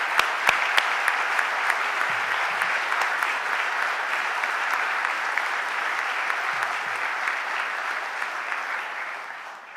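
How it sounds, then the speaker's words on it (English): An audience at the Philadelphia mayor's budget address applauds two police recruit officers, sustained loud clapping in a large hall that fades slightly toward the end. "Give them a huge round of applause."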